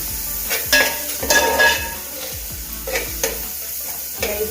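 Onions and spice powders sautéing in a pan, with a steady close sizzle broken by irregular scraping stirs and light clinks of a spoon against the metal, no voices.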